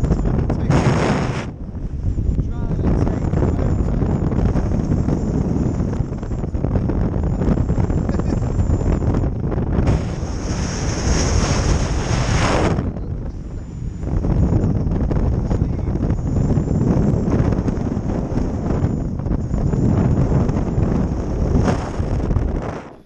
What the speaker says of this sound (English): So it was ridiculously windy